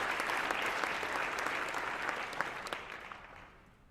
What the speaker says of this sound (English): Let's give all of these counties a round of applause.